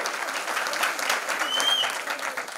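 Applause from an audience at a winning celebration, dense and steady clapping close by for the whole stretch, with a brief whistle partway through.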